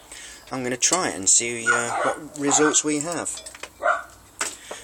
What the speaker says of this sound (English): So I have to excuse my dogs from barking